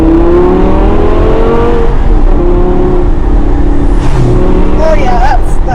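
A supercharged Mustang or Lamborghini Gallardo engine droning at steady revs with rising and falling pitch, then quick throttle blips near the end, loud and close over constant road and wind noise.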